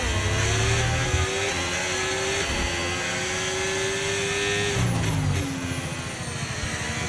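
A Mercedes Formula 1 car engine roars in the F1 25 racing game, sustained high-pitched revving with gear-shift steps and rising and falling pitch, loud and close throughout with no talk.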